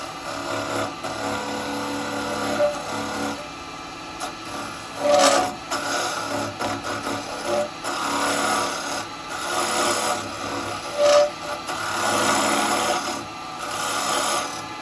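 An R2 hollowing tool scraping out the inside of a wooden pot on a woodturning lathe, a continuous rasping, grinding cut with brief louder bursts and squeals, close and steady.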